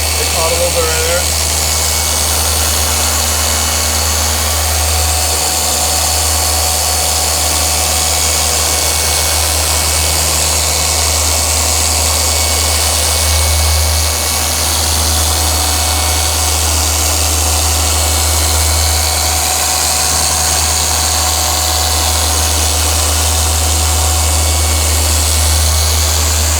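An electric polisher spinning while detailing a boat, a loud steady motor drone with a low hum that runs unbroken, close by, with occasional slight changes in pitch as the pad works the surface.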